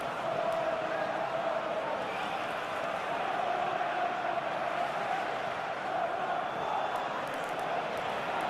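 A football stadium crowd in PES 2021 claps and murmurs appreciatively, a steady, broad wash of applause and crowd noise at moderate distance throughout.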